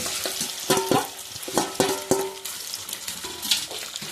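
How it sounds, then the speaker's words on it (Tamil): Raw banana slices coated in chili powder, turmeric and salt fry in hot oil in a home kitchen for a South Indian lunch, sizzling steadily under a few sharp metal clinks of stirring. "சிப்ஸ் மாதிரி எண்ணெயிலே பொரிக்கணும்"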